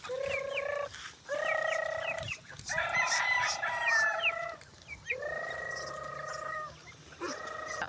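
Loud, nasal honking calls from ducks come in repeated bursts, several birds calling close by with short pauses between, no talking.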